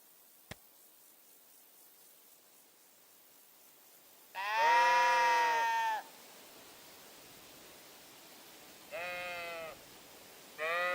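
Sheep bleat three times in the video game Kingdom Come: Deliverance 2, one long bleat and two shorter ones, clear and close against a quiet background, after a single sharp click.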